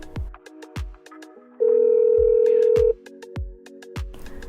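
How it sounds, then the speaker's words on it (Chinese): A telephone call being placed: a few short dial tones and a sustained steady ring tone, clear and close, punctuated by sharp clicks and knocks, with no talk. "我的文件忘带了，我打电话给芳芳，请她帮我送来。"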